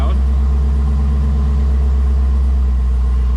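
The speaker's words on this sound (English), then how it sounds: "Let's put it back into sport mode. Get that exhaust nice and loud." A flood-damaged Chevrolet Camaro ZL1 idles in sport mode, its loud exhaust holding a deep, steady rumble close by without letup.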